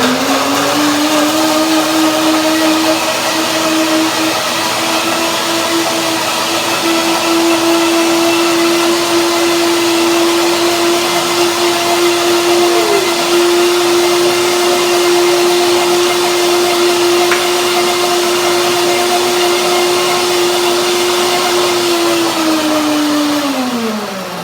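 A blender whirs steadily for over twenty seconds, mixing a red cabbage salad dressing of coconut milk, lemon, chili and almonds, with a constant loud motor drone and whine that drops in pitch at the end.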